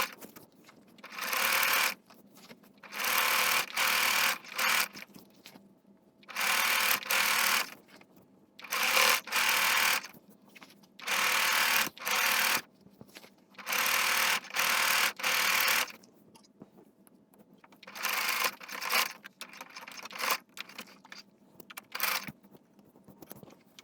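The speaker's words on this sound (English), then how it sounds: "So let's head to sewing machine and get done with this hem first." A sewing machine stitches a hem on a pair of summer shorts in quick, close bursts of rapid whirring, stopping and starting in a steady on-off rhythm with brief pauses between runs.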